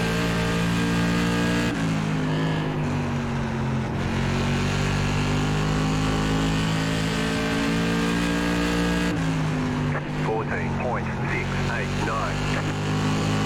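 Simulated SK Modified race car engine at Oxford Plains oval in iRacing, a steady loud droning engine note held throughout with brief lift-offs, under someone talking.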